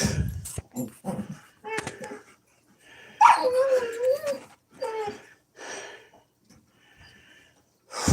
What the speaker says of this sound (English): You little puppy dogs.